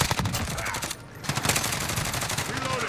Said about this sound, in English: Kind of just trying to shoot through the wall.